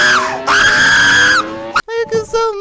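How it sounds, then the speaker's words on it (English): Loud, sustained screaming rings out in two long shrieks, followed by a brief break and then shorter yelled, whooping voices, all close and harsh. "Stop screaming!"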